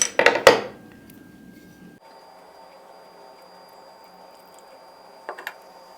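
A 330 ml bottle of Carlsberg Smooth beer is opened with a few sharp clinks and rattles, followed by a steady, soft pour. A brief cluster of clinks comes near the end, with no talking.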